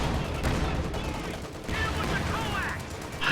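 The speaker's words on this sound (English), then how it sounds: "high explosive shot from that Sherman just penetrated this P4" Sherman tank high-explosive shell striking and penetrating a Panzer IV in a war video game, heard as a dense, continuous roar of battle noise and gunfire throughout, with a brighter burst at the very end.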